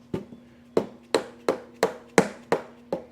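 Eight sharp metallic hammer taps on a part of a 1983 Kawasaki GPZ1100 motorcycle at a steady, slightly uneven pace, close and crisp, each ringing briefly before the next strike.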